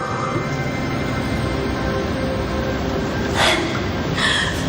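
Steady, hollow breathing through a snorkel with a constant rushing hiss and a couple of louder sharp breaths near the end.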